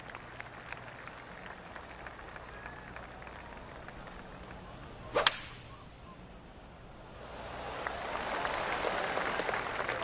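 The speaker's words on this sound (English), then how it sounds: "Oh, I can hear the golf claps around the course." Distant golf claps from the gallery around the course at the AT&T Pebble Beach Pro-Am, Pebble Beach Golf Links. A soft, scattered patter swells in the second half, after a single sharp swoosh-like crack midway.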